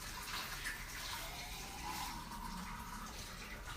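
Rice being washed in water, a steady wet swishing and rinsing that runs continuously with no talk, like water sloshing in a pot or sink.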